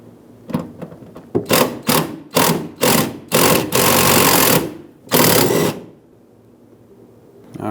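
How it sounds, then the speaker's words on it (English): A 10mm socket wrench, probably a power ratchet, removes coolant tank mounting nuts on a 2011-2018 Ram 2500, giving close, loud mechanical whirring bursts, short at first and then longer, before falling quiet. "take a 10mm socket and remove all 3 mounting nuts"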